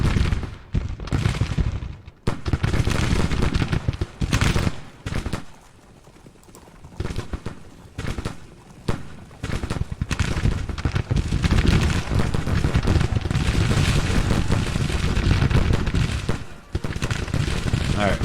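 Artillery and musket fire in a Civil War strategy battle game, dense rumbling volleys and bursts rolling on and off over a long stretch, with a voice speaking over the din.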